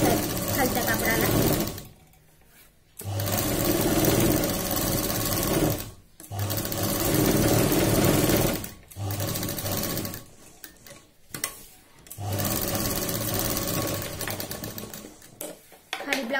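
A sewing machine stitches lining onto blouse fabric in loud, rapid mechanical runs broken by several short pauses. Someone speaks over parts of the stitching.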